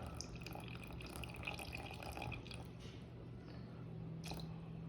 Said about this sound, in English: I'm just gonna add 150 grams of water